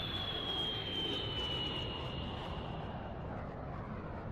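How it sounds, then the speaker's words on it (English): A jet airplane roars overhead as it descends, a loud steady rushing drone with a high whine slowly falling in pitch. "whenever planes are landing"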